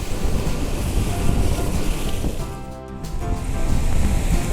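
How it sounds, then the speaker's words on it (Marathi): Loud, continuous surf roars and churns as waves crash against rocks at Bhogwe Beach, with a brief lull midway before the rushing water swells again, mixed with wind noise. "लाटा सगळी खडकांक आपटतात बघा"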